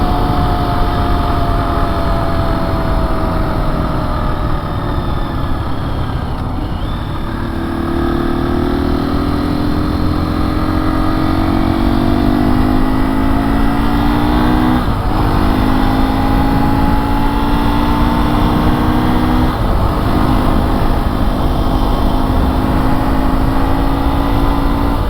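A 2024 KTM 350 EXC-F dirt bike cruising in sixth gear around 60 after a sprocket swap, its engine droning steadily and loud throughout with slight pitch shifts and wind rush, no voices.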